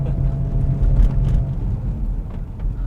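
Road traffic heard from inside a moving Audi S4: a deep, steady engine and tyre rumble, loud and close, with faint swishes of other cars passing in both directions.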